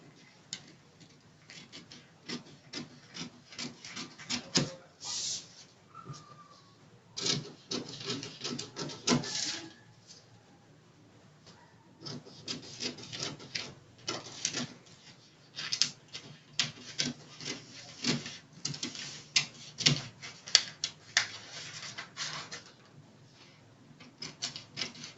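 Scissors trimming out a paper yoke pattern piece for a bustier blouse, with close, quiet, repeated crisp snips and paper rustles in irregular bursts, no talking.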